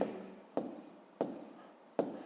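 A pen writes on paper during a maths exercise, a faint scratching with four sharp strokes at regular intervals, each followed by a soft trailing scrape.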